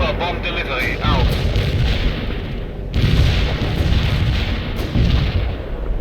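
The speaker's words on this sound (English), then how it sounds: "I'm inbound for bomb delivery." Heavy bomb-run explosions from a World in Conflict battle, a dense rumbling barrage with sharp booms near the one- and three-second marks and again near five seconds, under sustained low rumble, with radio-style voices talking over it.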